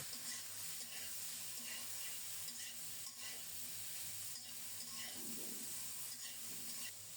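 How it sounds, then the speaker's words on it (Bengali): Ridge gourd frying in a pan while being stirred, for a light Bengali fish curry with potato; a steady hiss with soft scraping strokes runs throughout at moderate level, with no voices. "আবারও কিছুক্ষণ নেড়ে ছেড়ে ভেজে নিচ্ছি কিছুটা ভাজা হলে এখন ঝিঙ্গে দিয়ে দিলাম"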